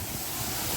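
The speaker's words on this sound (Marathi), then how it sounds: "मस्त धबधबा आहे पाण्याच्या मागे आणि एवढं सुंदर वातावरण आहे." Tamkada waterfall near Sangamner gives a steady, broad roar of falling water that fills the whole moment without any break, with wind rumble against the microphone.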